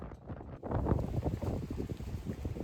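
Strong wind in Italy buffets the microphone outdoors, producing a loud, continuous rumbling gust noise that swells after a brief quieter moment and stays steady.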